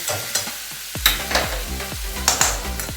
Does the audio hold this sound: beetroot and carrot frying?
yes